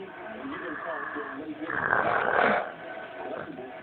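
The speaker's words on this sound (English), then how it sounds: "I hear a fucking demon snoring from my other room" A person snoring in another room, loud rasping breaths with a stronger swell in the middle, heard through a wall.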